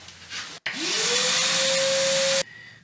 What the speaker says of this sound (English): I'm going up here with a shop vacuum, and I'm going to vacuum up all the dust,